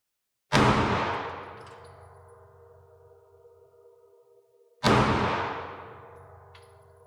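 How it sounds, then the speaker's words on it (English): Two handgun shots are fired downrange at a shooting range, each a sharp loud crack with a long ringing decay, spaced about four seconds apart with quiet between them. "just take a few well-aimed shots downrange to get used to the gun and the trigger"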